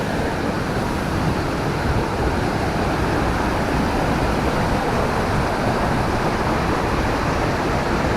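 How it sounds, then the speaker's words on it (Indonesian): Water falling down the tiers of the Uma Anyar waterfall, a loud unbroken rushing roar heard close by and steady from start to finish. "Jadi air terjun ini itu bertingkat ya teman-teman."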